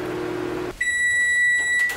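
A microwave oven finishing a batch of gooey chocolate cake cups: its low running hum stops and is followed by a single sustained, bright electronic beep that holds for about a second, close and clear.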